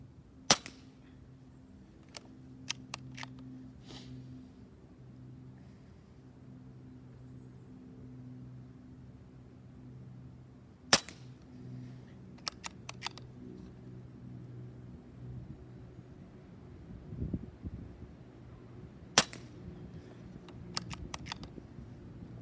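Benjamin Marauder air rifle fitted with a Walther barrel firing a five-shot group at a target: five sharp, dry pops spaced a few seconds apart over steady low background hum, fairly close and alone.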